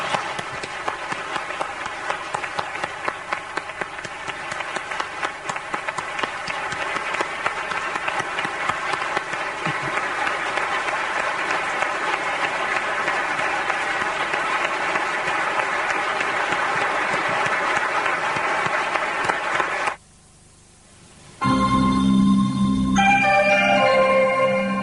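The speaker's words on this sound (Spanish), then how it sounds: "Dediquémosle nosotros un aplauso caluroso a este gran hombre" A warm, long round of applause from an audience at a memorial tribute, steady and dense for about twenty seconds before cutting off, followed by other sound.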